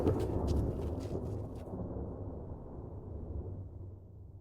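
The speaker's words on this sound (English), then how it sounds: "The storm's coming on." Low rumbling thunder of an approaching storm used as a radio play effect, a broad deep roll with some crackle at the start that slowly fades, with no voices over it.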